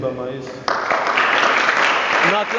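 An audience at a church worship service breaks into loud, sustained applause and cheering. Music and voices sound first, then the clapping surges abruptly and continues steadily to the end.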